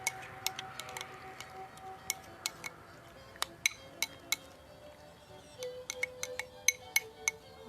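Ingredients for a Thai lime fish dish are stirred in a bowl, quiet sparse clinks and ticks of a utensil against the bowl in an irregular rhythm over a faint, hushed background.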